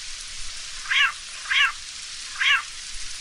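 Three short cat meows in the video game Postal 2: Paradise Lost sound one after another over a soft steady rain-like hiss in the background.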